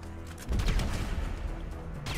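Rapid bursts of gunfire and clattering impacts from a Grand Theft Auto V team deathmatch, loud and dense, with overlapping shots and crashes of thrown objects filling the whole stretch.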